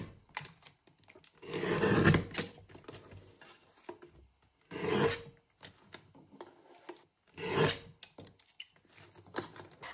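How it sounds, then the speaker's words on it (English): A paper trimmer cuts through paper in three quick bursts of scraping and swishing, with faint clicks and handling noises between the cuts, heard up close and fairly quiet. "So I'll use my trimmer."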